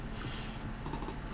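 Keys clatter on a computer keyboard in a short quick burst of clicks near the end, over a steady background hum.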